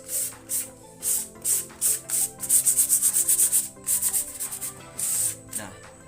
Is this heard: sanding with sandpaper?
yes